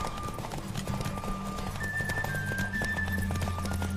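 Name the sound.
horse galloping in a video game race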